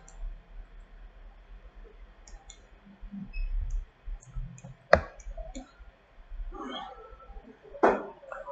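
A computer mouse clicks sparsely during work in Revit architecture software. Isolated sharp clicks come close by against a quiet background, with faint murmured talk between them.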